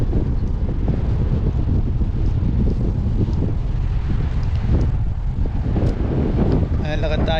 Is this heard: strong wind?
yes